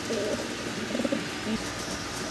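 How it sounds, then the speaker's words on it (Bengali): Pigeons kept in a cage at a farm coo in soft, repeated low calls that sit close and clear over a steady background hum. "সবগুলো হচ্ছে রানিং কবুতর।"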